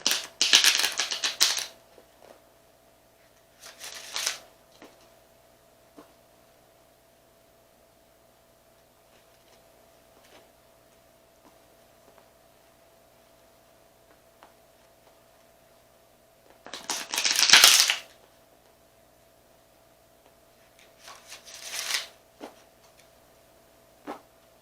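Tarot cards are shuffled in short, crisp riffling bursts, four separate flurries spread across a quiet room with long silent gaps between them.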